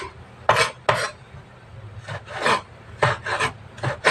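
Ripe jackfruit being sliced into small pieces, heard as a run of short, close, rasping knife strokes in uneven bursts, with no talk.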